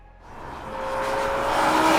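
A BMW M5 with a V10 engine revs up in a rising, high-pitched wail, the engine note climbing steadily and growing louder over two seconds with no talking.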